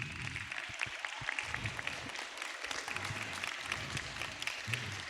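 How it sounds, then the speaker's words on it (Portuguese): School event audience clapping in tribute to the school director, a steady wash of many hands applauding, distant and fairly quiet. "Quero fazer uma homenagem pessoal, mas com aplausos de todos vocês, à diretora Karine"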